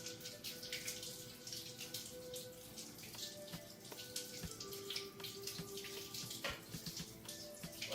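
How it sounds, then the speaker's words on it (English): Tap water runs steadily into a sink while two mushrooms are rinsed and rubbed clean by hand, a close continuous splashing stream broken by small clinks and shifts in the flow. "I'm going to wash them off good."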